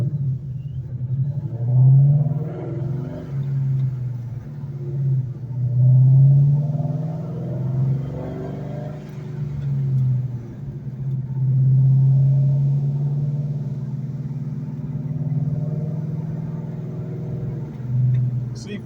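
A 2004 Procharged Mustang Mach 1 being driven at low speed in a 35 mph zone, its engine a steady deep rumble with mild swells in loudness, under someone talking.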